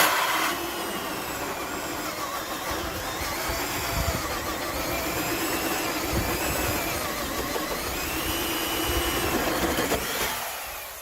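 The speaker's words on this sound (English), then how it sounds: "the sheathing underneath is drilled into" A power drill bores through the sheathing of a house wall after the siding has been stripped off, a steady loud whine running nearly continuously with slight pitch wavering and a drop-off at the end.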